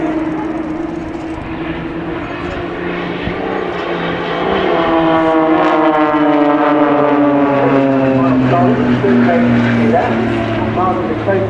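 Blades aerobatic display aircraft flying a Spitfire roll at the Farnborough International Airshow: a loud, sustained propeller engine drone whose pitch sweeps and shifts as the plane maneuvers, fairly close and steady throughout, with no talk over it.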